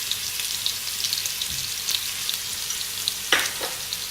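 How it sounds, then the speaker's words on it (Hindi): Onions sizzle and fry in a pan with ginger garlic paste and garam masala for matar pulao, a steady crackling hiss broken by a few scraping stirs with a spoon, close and alone. "थोड़ी देर के लिए और फ्राई करेंगे"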